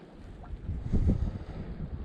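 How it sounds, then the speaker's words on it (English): Cold east wind blowing high in the hills in late October, a steady low rushing buffet with one stronger gust swelling in the middle. "Still a cold east wind"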